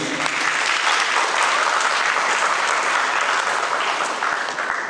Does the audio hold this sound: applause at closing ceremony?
yes